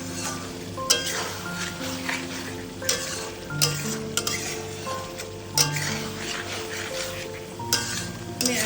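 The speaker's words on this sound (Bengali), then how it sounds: "একটু নাড়িয়ে দিচ্ছে" Mutton curry being stirred in a hot pan with yogurt and spices, over a steady close sizzle and frying crackle, with repeated scraping strokes and occasional clinks of the spoon against the metal.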